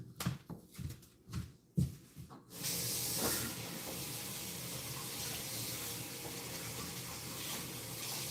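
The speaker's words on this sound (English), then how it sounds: "Let me give this a quick wash." Water runs steadily from a kitchen tap onto a dish being washed, a close, continuous hissing spray after a few brief knocks and clatters at the start.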